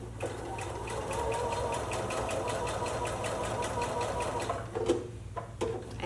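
A sewing machine runs in a steady, continuous whir while stitching a curved seam on a Christmas stocking, then stops and starts in short bursts near the end as the needle is lowered and the fabric pivoted.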